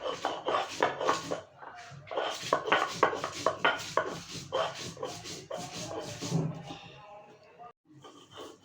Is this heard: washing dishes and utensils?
yes